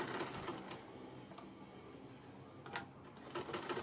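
A sewing machine top-stitches the opened lining of a child's lehenga, a quiet rapid mechanical whirring and ticking that runs close and steady, with brief louder bursts near the end and no talk.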